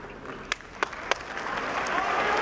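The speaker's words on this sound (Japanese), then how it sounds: "エディオンアリーナ大阪、大きな拍手に包まれます。" Crowd at a sumo tournament in Edion Arena Osaka breaking into applause, a few sharp claps first, then a broad wash of clapping swelling louder toward the end.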